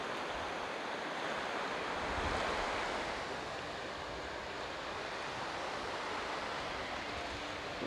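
Ocean waves at a Goa beach in shallow, clear water make a constant, enveloping roar of surf mixed with wind, loud and unbroken throughout, with no talking.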